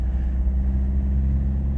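A diesel turbo Toyota Town Ace 4x4 van pulls away in first gear with a slightly grabby clutch, its engine giving a steady, close low rumble and hum without any voices.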